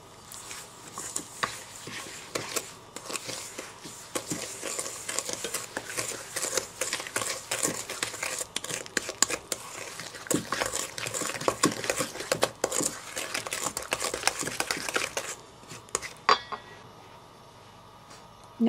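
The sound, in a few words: mixing parsnips, sugar and cinnamon in a mixing bowl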